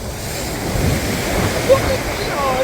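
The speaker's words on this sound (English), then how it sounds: "I do apologise about the wind," Strong wind gusting across a beach at Seaton Carew, Hartlepool, a steady roaring rush mixed with crashing surf, continuous throughout with a brief bump near the end.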